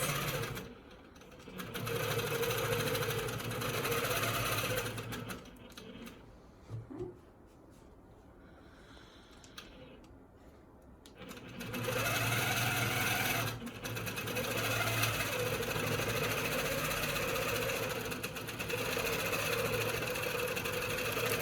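A longarm quilting machine stitching through jelly roll quilt fabrics, a loud continuous mechanical whir with a rapid needle rhythm that pauses midway before resuming steadily.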